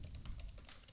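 Rapid keystrokes on a computer keyboard while code is entered into a blog page editor, a steady run of close, crisp clicks with no pauses and no voices.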